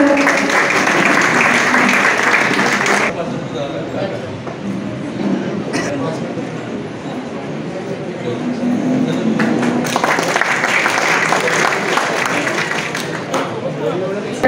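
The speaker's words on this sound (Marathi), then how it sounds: "शेवाळे काकांसाठी एकदा जोरदार टाळ्या जाऊ द्या" Audience at a credit cooperative society's annual general meeting in Chikhli claps loudly, a dense, sustained applause that dips midway then swells again, with the hall's crowd murmur underneath.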